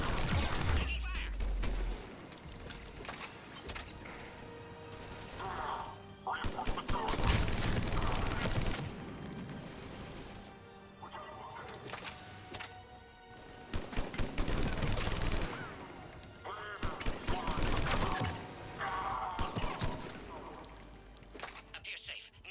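Heavy gunfire in the shooter Mass Effect 3, with repeated loud bursts of automatic fire and crashes rising and falling in waves, mixed with speaking voices.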